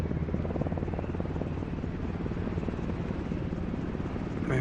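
Helicopter flying in Microsoft Flight Simulator 2024 in VR, a constant heavy rotor and engine drone with a low throbbing rumble, steady and unbroken throughout.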